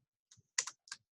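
Three quick clusters of clicks from typing on a computer keyboard while entering a label into an Excel spreadsheet, crisp and close, with short gaps between them and no talking.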